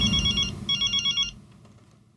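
A telephone rings in two quick electronic trilling bursts over low background noise, then falls silent.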